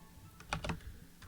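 Several quick keystrokes on a computer keyboard while a username is entered during a cloud file server setup, a short cluster of close, crisp clicks with no voices.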